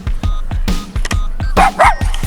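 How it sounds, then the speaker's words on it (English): A dog at a dog run in Yoyogi Park barks, yips and whimpers close by in a quick series of sharp, loud bursts. "What are you barking at?"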